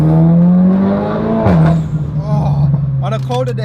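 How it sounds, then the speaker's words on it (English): A 460 brake horsepower Cupra car engine drones loud and close at a steady pitch, then blips with a sharp rev change before settling back into a lower hum, while a person talks over the end. "just a little brief ride in this 460 brake Cupra"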